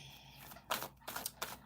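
Tarot cards being shuffled by hand in a series of crisp riffling bursts, three or four short flurries of papery clicks separated by brief pauses, close and fairly quiet.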